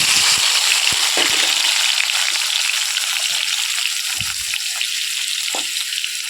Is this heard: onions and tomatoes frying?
yes